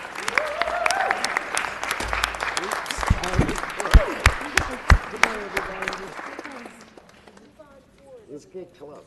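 Audience applause at a city council meeting, dense clapping mixed with talk, sharp loud individual claps standing out, then tapering off into scattered claps and voices near the end.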